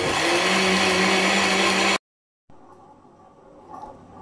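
An electric blender blending watermelon juice runs loud and steady for two seconds, then cuts off abruptly, followed by quiet, faint handling sounds.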